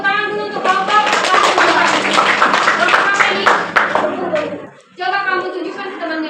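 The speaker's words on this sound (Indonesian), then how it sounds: "Tepuk tangan dulu untuk kelompok." Classroom applause during a teaching simulation, a dense stretch of many hands clapping with voices mixed in, pausing briefly near the end before a second short burst.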